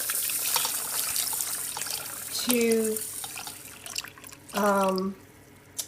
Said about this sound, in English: then you would add the water to this